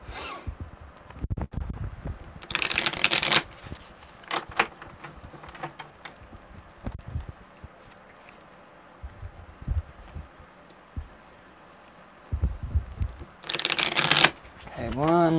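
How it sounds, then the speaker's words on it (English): Tarot cards are shuffled in several short riffling bursts, near and crisp, with quiet pauses and faint shuffling between them. "Okay, one more good shuffle."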